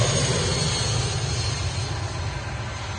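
A Royal Air Force Envoy IV jet departs close by, making a brief, fairly loud rumbling engine roar that eases off slightly over a few seconds, with no voices.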